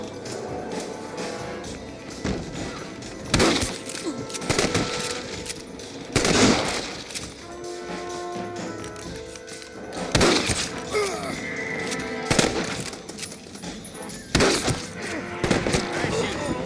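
Gunfire rings out in a Red Dead Redemption shootout at a house, loud sharp shots in irregular bursts over game sound and music, with voices heard now and then.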